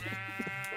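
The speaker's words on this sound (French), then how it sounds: "on va aller buter les moutons pour récupérer un peu de bouffe" Sheep bleating in Minecraft, a short voiced bleat with steady harmonic tone, alone and moderately loud for under a second.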